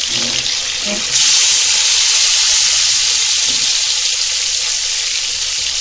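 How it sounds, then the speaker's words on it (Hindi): Tomatoes dropped into a pan of sizzling chicken and mutton masala, a loud steady hiss of frying that flares up after a soft clatter and continues evenly and close. "पहले टमाटर डालेंगे, टमाटर दोनों में डालेंगे।"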